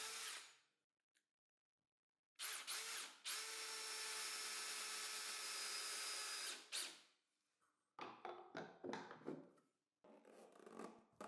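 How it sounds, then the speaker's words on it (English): A power drill whirs loudly in a few bursts, with one long continuous run, boring holes in a mobile workbench frame, followed by scraping and rubbing sounds nearby. "I drill the necessary holes in the workbench frame"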